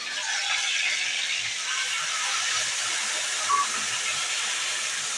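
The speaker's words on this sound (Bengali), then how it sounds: "এবার মশলাটা আমি ঢেলে দিচ্ছি" A spice paste of coriander, cumin, black pepper, ginger, garlic, green chilli, salt and turmeric hits potatoes and tomatoes frying in a pan, giving a steady, loud, even hissing sizzle that holds for the whole stretch.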